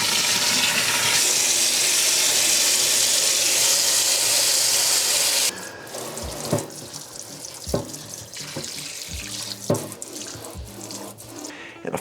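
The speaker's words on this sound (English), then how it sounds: "Now it's time to wash the sink with hot water" Hot water runs steadily from a kitchen tap into a sink being washed, a loud continuous splash that then cuts off, followed by scattered knocks and clunks in the basin.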